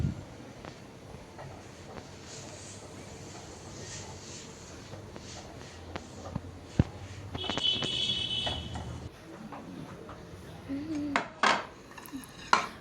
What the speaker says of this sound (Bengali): তো কয়েকটা ভাজা হয়ে গেছে, এখন আমি বাকিগুলো ভেজে নিচ্ছি।